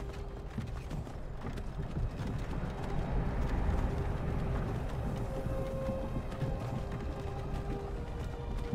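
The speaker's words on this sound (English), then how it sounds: "I hear a carriage." A horse-drawn carriage rolls along in the video game Skyrim, steady clip-clop of hooves with creaking wooden wheels and rattling, continuous and moderately loud over a low rumbling bed, no talking.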